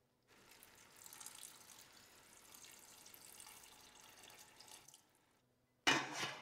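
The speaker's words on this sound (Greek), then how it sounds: "Θα ρίξω και το νεράκι μου τώρα." Running water pours steadily into a pot holding sea bream for several seconds, then stops; after a short pause a louder splash or clatter sounds briefly.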